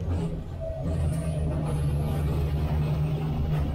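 Heavy FIA European Truck Racing Championship trucks at Le Mans accelerating from the start toward the chicane by the Dunlop Arch, making a dense, loud, continuous engine roar with a deep low drone throughout.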